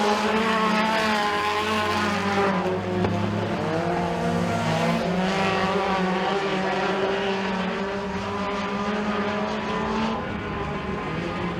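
Several race cars circle an oval at Freedom Motorsports Park during heat racing, their engines droning loudly and continuously with overlapping pitches as the field runs together, one car moving high to let faster traffic pass.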